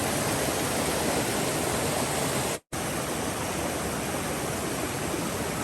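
The Rattle River flows along the Appalachian Trail in the White Mountains, a loud, close, unbroken rush of water with one brief cut near the middle.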